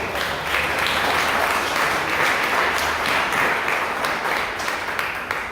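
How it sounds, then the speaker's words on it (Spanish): Church congregation applauding during a Pentecost sermon: dense, steady clapping from many hands, loud and continuous across the whole stretch with no break. "Demos un aplauso al Señor."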